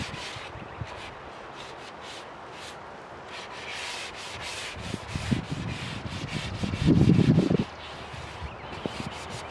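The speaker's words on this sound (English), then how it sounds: "So what I'm doing is sanding down the ridges that I caused when I pressure washed these pieces." Steady rasping of sandpaper rubbing back and forth over teak Adirondack chair pieces, smoothing raised ridges, with a louder, heavier stretch of scrubbing near the end.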